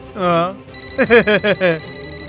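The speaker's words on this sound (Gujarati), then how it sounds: "આજે વારંવાર ફોનની રિંગ વાગી રહી છે." A telephone bell rings in a short burst of repeated trills, loud and close, following a brief voiced tone in a domestic TV drama scene.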